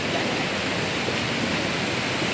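A river rushes in a steady, loud, broadband roar of water, heard close and unbroken, with no voices.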